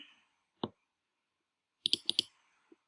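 Mouse clicks on a website: one sharp isolated click, a pause, then a quick burst of three close clicks and a faint final tick, crisp and near against silence.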